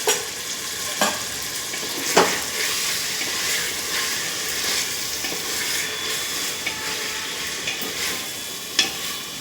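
Marinated chicken sizzles and fries in a pot for biryani, a steady close hiss with occasional stirring scrapes and clinks throughout.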